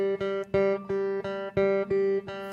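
Guitar strings plucked in triplets, thumb then middle then index finger, give eight evenly spaced, close, bright notes in a steady repeating rhythm, each ringing briefly before the next pluck.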